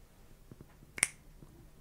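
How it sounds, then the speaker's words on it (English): A single sharp finger snap, crisp and close, standing alone against near silence, with a couple of faint soft taps before and after it. "I can't even do the finger snap right."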